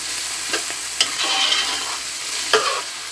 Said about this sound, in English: I just added that to the pot, stir it around, get it all blended in.